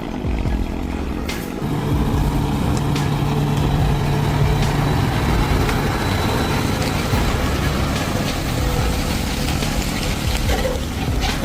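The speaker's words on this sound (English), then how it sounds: "That is the world's largest dump truck, which transports coal in open pit coal mines" Heavy engine of the world's largest mining dump truck hauling coal in an open pit mine, a steady, loud, low rumble holding throughout with no pauses.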